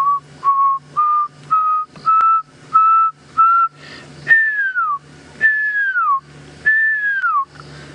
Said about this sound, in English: I can hear pearl-spotted owl in the distance. It's quite far. I don't think you'd be able to hear it. It's got a wonderful whistling call.